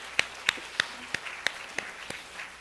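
A church congregation at a Korean festival worship service claps in a slow, even rhythm, about nine sharp, separate claps spaced roughly a third of a second apart, fairly faint.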